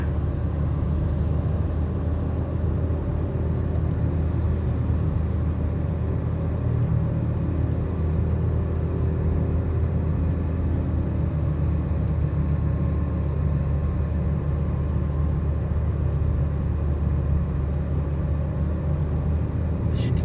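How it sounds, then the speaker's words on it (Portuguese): Road traffic with cars and motorbikes passing, a steady low rumble of engines at a moderate distance, continuous and unbroken, with no voices. "A gente percebe o movimento, os carros, motos"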